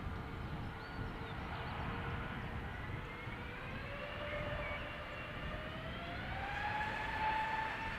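An Airbus Neo departs Amsterdam Schiphol outbound to London Gatwick, a fairly quiet, distant engine whine with slowly rising tones and a low rumble swelling gently over several seconds.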